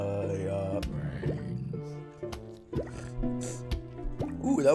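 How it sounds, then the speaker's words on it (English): A wet, snotty squish from the Plants vs. Zombies video game rises over tonal game music, with several short dripping, plopping accents scattered through the passage. "ooh, that was a snotty sound you just heard."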